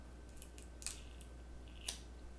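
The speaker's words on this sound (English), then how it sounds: "I'm going to just take some scissors and I'm just going to quickly cut it." Scissors quickly snip a plastic support straw for a tiered wedding cake, with two crisp, close clicks about a second apart over quiet room tone.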